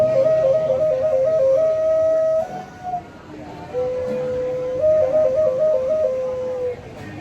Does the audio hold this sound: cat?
no